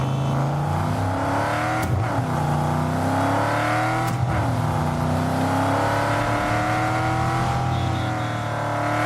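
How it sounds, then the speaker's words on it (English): Cars driving in the video game Cyberpunk 2077, a loud continuous engine drone with rising and falling revs, smooth gear shifts and sharp transients, steady and close throughout. "The sound of the cars are better as well."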